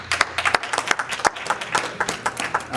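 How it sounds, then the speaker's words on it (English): At an educational community forum, an audience breaks into close, brisk applause with distinct sharp claps standing out in a continuous rattle. "Let's give her a round of applause"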